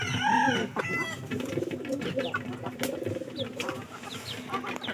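Chickens cluck and squawk close by at a pigeon keeper's coop, a busy run of calls with a crow-like cry at the start, continuing fairly loud throughout.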